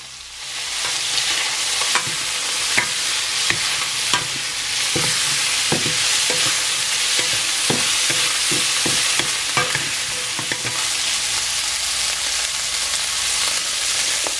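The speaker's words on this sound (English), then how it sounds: "Stir fry with the chili flakes and some of the garlic." Beef salpicao stir-fried with chili flakes and garlic: continuous loud sizzling in a hot pan, punctuated by repeated sharp scrapes and clacks of the utensil tossing the meat.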